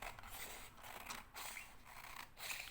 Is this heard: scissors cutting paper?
yes